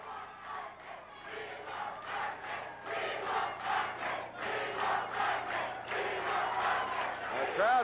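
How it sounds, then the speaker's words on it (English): A wrestling arena crowd chants in a steady rhythmic pulse, a dense roar of many voices rising and falling together, moderately distant. "The crowd chant, we want Bundy, we want Bundy."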